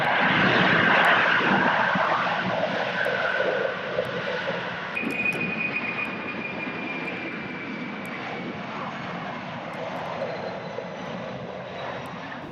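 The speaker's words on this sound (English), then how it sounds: "where we watched the takeoffs and landings" An airplane taking off or landing at Kowloon's airport in Hong Kong in 1995, its engine roar loud and steady at first, then easing to a broad, continuous rumble with a thin whine running through it.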